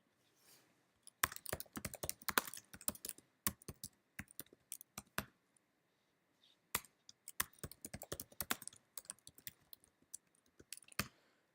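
Bursts of rapid typing clatter on a computer keyboard while a program is being written, with short pauses between runs of close, crisp keystrokes.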